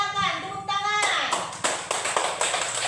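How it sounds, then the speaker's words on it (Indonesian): A classroom of students claps for a group that presented a pencil holder made from a used plastic water bottle. A voice comes first, then steady, dense clapping fills the rest. "Ya, silakan tepuk tangan."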